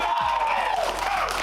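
A lively studio audience at a rugby league talk show cheers and whoops loudly and continuously, with a voice rising over the crowd noise.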